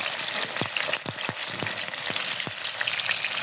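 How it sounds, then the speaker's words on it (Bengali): Sarputi and tilapia fish, washed and rubbed with turmeric and salt, fry in hot oil with a loud, dense hiss and scattered sharp pops and spatters throughout, close up and with no voices. "এখন আমি ভেজে নেব।"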